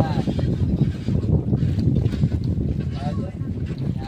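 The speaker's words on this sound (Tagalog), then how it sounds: "Lumakas yung hangin mga tepo." Strong wind buffets the microphone out at sea on a fishing trip, a heavy low rumble with gusting surges, and a voice speaks faintly under the roar.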